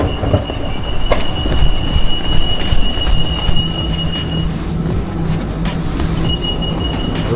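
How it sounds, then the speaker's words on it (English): A driverless metro train arrives at a station. A loud, steady rumble of wheels comes with high, sustained tonal squeals and faint clicks, heard up close. "Bro, that's our train."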